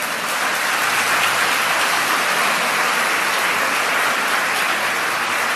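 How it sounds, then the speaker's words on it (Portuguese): A church audience applauds, producing a loud, dense, continuous wash of clapping that stays even from start to finish with no voices over it. "Deus merece um aplauso ou não merece"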